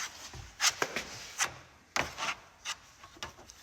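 A small paddle spreads body filler across a little panel, giving scraping, rubbing strokes in irregular bursts, close and fairly quiet with no talking.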